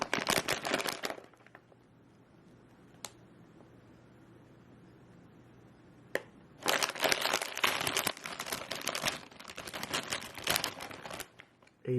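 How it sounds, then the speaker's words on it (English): A Doritos chip bag is torn open and crinkled close by, loud sharp crackling bursts at the start and again through the second half, separated by a quiet stretch with one or two small clicks. "we're going to rip open Doritos and just see how loud it is compared to the other two."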